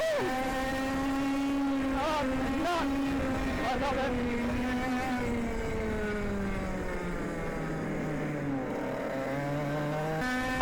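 An F100 racing kart engine screams at full throttle through a race, its high whining pitch rising and dipping with each gear-less surge and corner, loud and continuous throughout.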